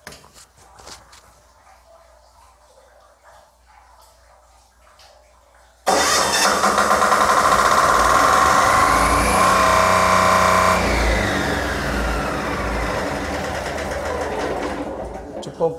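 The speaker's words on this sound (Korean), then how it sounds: "주 펌프는 엔진 펌프고요." A diesel engine driving a fire pump cranks and catches abruptly after a quiet stretch of talk, then runs loud and steady with a whining rise in pitch as it settles to speed.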